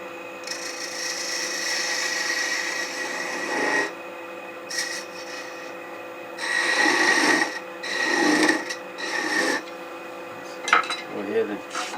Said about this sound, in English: now let's sand that down a little bit before we part it off